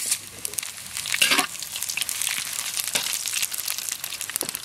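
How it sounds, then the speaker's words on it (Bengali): Cumin, bay leaf and dried chili sizzle and crackle in hot mustard oil in a pan, a steady close frying hiss with sharp pops, tempering for dal outdoors, with no voices. "সর্ষের তেল, তেল আমাদের গরম হয়ে গেছে, তারই পাশাপাশি জিরে তেজপাতা আর শুকনো লঙ্কা দিয়ে দেব"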